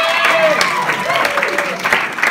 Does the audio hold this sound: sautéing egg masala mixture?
no